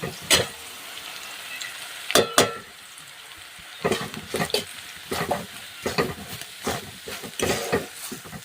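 Roasted semolina is stirred in a pan for upma, with repeated close scraping strokes and a soft sizzling frying hiss underneath, coming in uneven rhythmic bursts.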